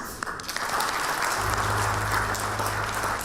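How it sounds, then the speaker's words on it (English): An audience at the launch of a county tariffs and pricing policy breaks into sustained applause, steady and full after a few scattered early claps, with a low hum joining underneath partway through. "And one final round of applause."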